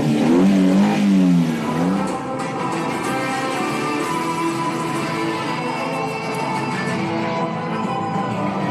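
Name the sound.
car engines starting and revving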